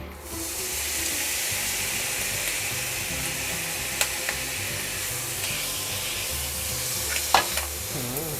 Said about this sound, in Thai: เอาเนื้อหอยลายของเรานะครับ ใส่ลงไปเลย